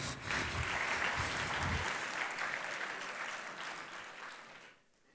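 Applause from the audience at a FameLab Italia science-talk regional final in Trieste greets the next speaker, a fairly faint crowd clapping that holds steady, then fades out over the final second.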